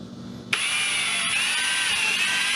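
A power drill spins up and drills into a battery box, a sudden loud, steady high whine that holds for a couple of seconds close by.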